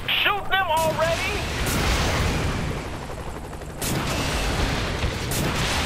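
Gunfire in Saints Row: The Third, loud bursts of shots over a noisy action backdrop, with a voice at the start.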